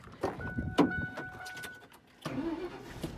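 An old Ford pickup truck engine cranks in short bursts, catches briefly, then turns over again near the end, close and moderately loud with no talk.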